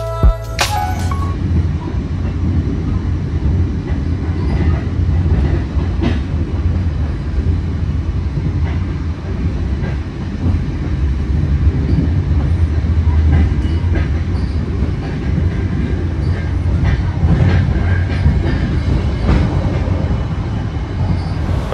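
A passenger train, the Pasundan, rumbles steadily along the rails arriving at Gombong station, Central Java, a continuous low roar with faint rattling and clacking throughout, close and loud, no voices.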